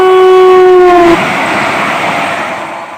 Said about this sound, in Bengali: হাঁটতে হাঁটতে দেখি সামনেই বন্দে ভারত এক্সপ্রেস।